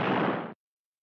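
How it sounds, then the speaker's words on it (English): A single loud, broad burst of noise that cuts off abruptly after about half a second, a World War II rocket explosion heard up close. "Watch this explosion."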